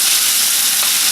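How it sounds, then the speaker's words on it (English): Steak frying in a hot pan with Worcestershire sauce being added, giving a steady, loud broadband sizzle and hiss that runs unbroken and close throughout. "I'm just throwing a little Worcester on,"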